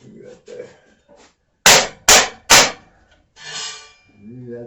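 Three sharp, loud hammer blows ring out on a metal fender mount being shaped by hand, each a quick metallic strike in fast succession, with someone speaking briefly before and after.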